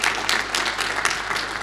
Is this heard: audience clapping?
yes